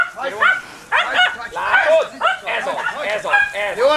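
A Puli herding dog barks in a sheepfold, loud and close, with a rapid run of sharp yipping barks as voices call out during the herding.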